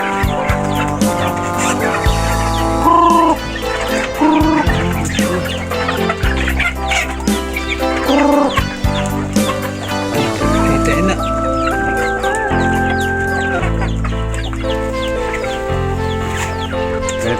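Pet chickens cluck steadily at feeding time, their calls running continuously beneath a loud, steady bed of tonal background music.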